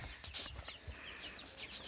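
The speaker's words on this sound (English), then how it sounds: "There's 8 chickens." Several chickens of three breeds in an old-fashioned coop give soft scattered clucks and short chirps, faint and a little distant, with no talking.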